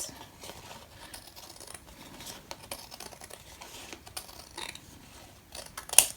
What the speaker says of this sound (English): I'm just going to cut that in half. I'm just going to use my scissors because you won't even see the edges.